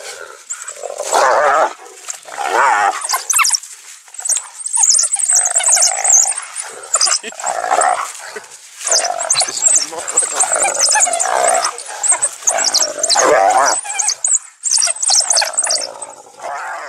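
A pack of African wild dogs attacks hyenas in the wild, with a dense, continuous chorus of high yelps, twittering calls and growls. The animal noise overlaps throughout and stays close and loud.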